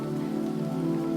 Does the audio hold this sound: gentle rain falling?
yes